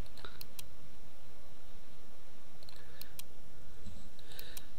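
Several sharp mouse clicks come in small pairs and clusters over a steady background hiss while a layer mask is set up in Photoshop.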